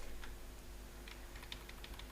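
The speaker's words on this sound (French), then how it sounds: "Là, j'affine des déplacements avec les flèches du clavier." Computer keyboard arrow keys tapped during Photoshop work, a scattering of light, quiet clicks in irregular rhythm, close and isolated with no talking.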